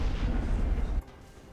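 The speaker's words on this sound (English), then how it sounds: "Your turret has been destroyed." A turret is destroyed in a video game, bursting in a heavy, booming explosion that rumbles close and loud for about a second, then cuts off to a faint, quiet tail.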